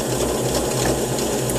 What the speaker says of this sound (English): We chuck that into the drill. Make sure that it's running just like it is right there.